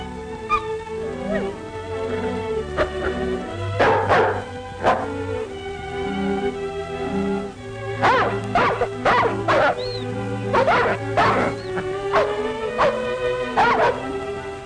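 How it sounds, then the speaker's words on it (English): Sled dog team barking, yipping and whimpering in snowy wilderness after an avalanche, many dogs close by in bursts of sharp yaps over a steady low musical score. "At least we've got our dog team."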